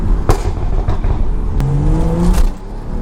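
A tuned Stage 2+ BMW with a loud aftermarket exhaust drives through traffic, its engine droning steadily close by, with a couple of sharp crackles and a brief rising rev partway through.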